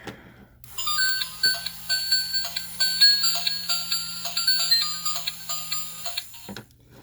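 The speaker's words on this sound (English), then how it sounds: "And there goes your phone." A phone ringtone plays a bright, bouncy electronic melody of repeated chiming notes for several seconds before cutting off abruptly.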